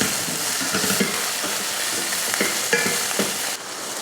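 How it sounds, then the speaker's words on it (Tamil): Onion, garlic, ginger and tomato sautéing in a pan for a mutton curry, a steady close sizzle broken by intermittent scraping and stirring clicks, with no talk. "அதையும் நல்லா வதக்கிடுவோம்."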